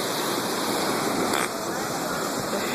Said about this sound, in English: There's like a waterfall over here.